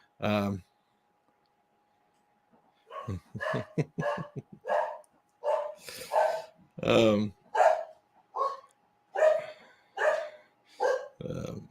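A dog barks repeatedly nearby, a long series of sharp, evenly spaced barks and yips at close range after a brief opening yelp.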